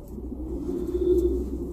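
Pigeons at a breeder's loft give a soft, low, rolling coo up close, one continuous murmuring call that swells slightly midway through.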